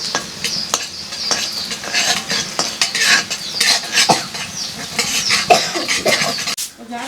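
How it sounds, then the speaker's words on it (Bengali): River kalibaus fish sizzles and fries in a pan while being stirred, with steady scraping of a utensil against the metal and clinks of cookware, close and loud with no talk. "এই যে মাছ ভাজা হয়ে গেল ফাইনালি"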